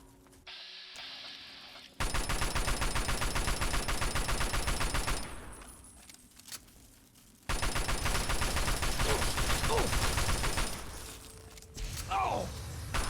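Sustained automatic gunfire in Fallout 3 modded combat at Grayditch, two long loud rapid-fire bursts separated by a brief lull, with shattering impacts and a voice calling out near the end.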